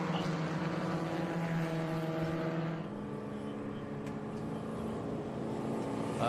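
Race cars idle and rumble as they form up two by two on the grid at Watkins Glen during a SpeedTour race weekend, a steady layered engine drone with harmonic tones throughout, no talk.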